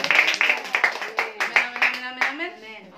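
A church congregation claps for God in a run of quick claps under cheering voices and a sustained sung or called tone, then fades into calls at the end.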